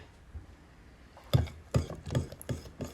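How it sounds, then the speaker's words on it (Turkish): A hand whisk beats cooked vanilla cream mixed with labneh in a bowl for tiramisu, giving several close, rhythmic scraping taps in quick succession after a quiet start. "Çırpıcıyla şöyle bir çırpacağım."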